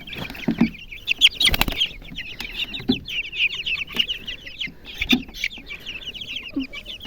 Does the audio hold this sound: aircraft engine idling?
no